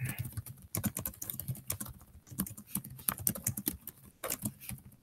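Quick, uneven clatter of fingers typing on a computer keyboard, close to the microphone, with bursts of keystrokes and brief pauses throughout.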